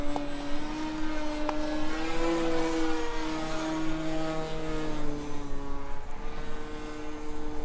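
Balsa RC airplane, a 1400mm Dancing Wings Stick, flying with its propeller droning steadily and shifting gently in pitch as it maneuvers at moderate distance, with no voices.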